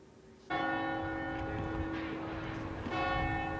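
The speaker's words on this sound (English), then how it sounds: "Peterborough Cathedral has stood for 900 years, its bells marking the passage of time." Bells of Peterborough Cathedral ring loudly and steadily, the strong resonant peal starting abruptly after a brief quiet moment and a fresh strike swelling near the end.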